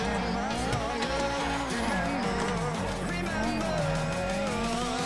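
A BMW M4 in the video game GTA 5 revs its engine and exhaust with a loud, continuous, wavering drone that rises and falls throughout, with people talking over it.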